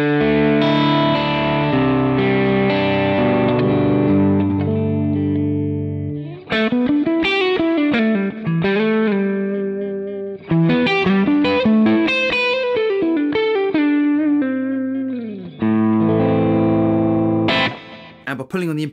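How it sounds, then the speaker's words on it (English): Electric guitar through a Marshall Silver Jubilee Studio amp set clean on the verge of breakup, playing sustained chords and then busier riffs with a slightly gritty edge, loud and close. "increase the gain going into the front of the amp, which is going to create a clean sound on the verge of breakup"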